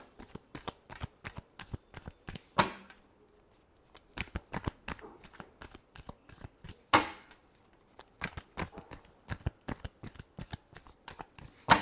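Tarot cards are shuffled by hand in quick repeated riffles and taps, a crisp, close rhythmic flutter of card strikes that goes on for the whole stretch without talking.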